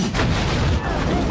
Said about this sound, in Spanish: justo cuando se escuchó la explosión del motor que falló